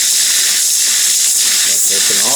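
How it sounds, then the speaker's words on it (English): Antique Jensen Weeden toy steam engine venting steam, a loud continuous hiss close by, with some faint rattling under it. "that would be a danger to children, getting their hands in the way of that steam"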